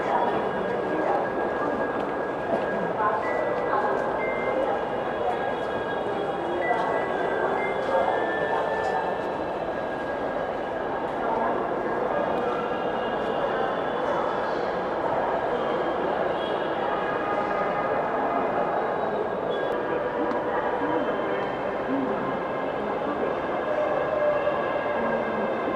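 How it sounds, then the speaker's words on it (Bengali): A metro train pulls into a crowded rail station at midday, a steady rumbling roar of wheels and motors filling the platform with a constant, fairly loud wash of noise and a few faint tonal whines, with no talking. "দেখুন দর্শক, একটি ট্রেন আসলো,"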